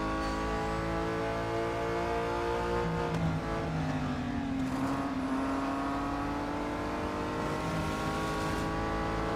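Race car engine in the Real Racing 3 mobile game on the final lap, a continuous loud whine that rises and falls with shifts and a brief pass by another car.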